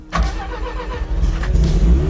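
A car engine on an RX Scarab project car runs after a tuning change, a low rumbling idle with uneven pulses and slight revving swells, close and loud with no talk.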